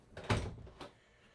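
A small storage door in the bathroom of a 2026 Grey Wolf 25RRT-BL toy hauler RV thumps softly as it opens or shuts, with one main knock and a lighter second tap, faint and close.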